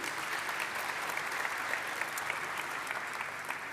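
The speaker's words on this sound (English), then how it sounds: "Please give her a round of applause." Audience at an international energy conference in Namibia applauding, a dense, even roar of many hands clapping at once that holds steady and full for the whole stretch.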